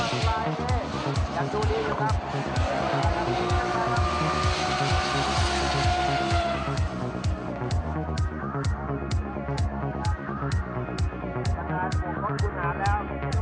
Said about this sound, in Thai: สบัดท้ายปั่นควันโชว์ฟอร์ม ในรอบคุริฟายได้อย่างเหนือชั้น